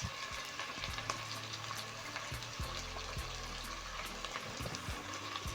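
Diced onion, diced tomatoes and tomato paste sizzle steadily in a pan for chicken stew, a dense continuous frying hiss with faint stirring clicks, close and even throughout, no voices.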